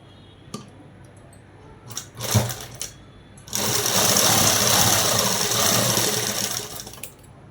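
Sewing machine running a straight stitch along a soft cloth dress for small children, with a few short bursts and then a steady, loud continuous whir that stops near the end.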